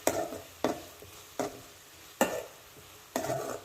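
Tomatoes sauté in a pan for coriander dal masiyal, with about six scraping stirs at a steady pace over a soft, constant sizzle, close and fairly quiet.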